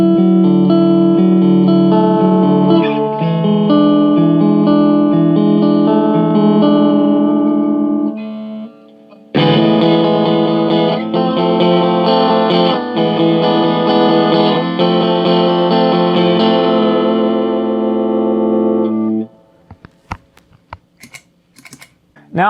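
An electric guitar through a King of Tone clone overdrive pedal plays light picked notes and then heavy distorted chords, loud and sustained, before ending in a few sparse clicks and taps.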